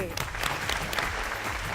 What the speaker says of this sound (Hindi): और जोरदार तालियां हो जाए हमारी तीखी मिर्ची शबाना जी के लिए